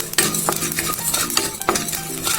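Dry-roasting coriander seeds, cumin and pepper in a pan on low heat for sambar rice, with scattered clinks and scraping strokes of a spatula against metal and a faint crackle running underneath, close and fairly steady.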